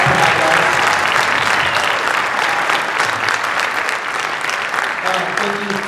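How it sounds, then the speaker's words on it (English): Audience applause at a school wind ensemble concert, a dense, steady wash of clapping that fills the hall for several seconds, with a faint voice underneath. "Give it up for South Harrison."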